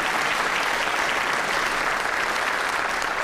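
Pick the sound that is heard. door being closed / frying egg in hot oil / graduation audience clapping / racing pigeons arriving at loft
graduation audience clapping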